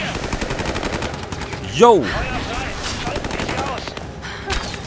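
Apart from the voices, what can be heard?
gunfire in the video game Rise of the Tomb Raider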